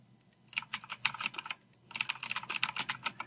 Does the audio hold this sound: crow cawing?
no